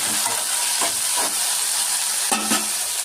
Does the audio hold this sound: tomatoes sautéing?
yes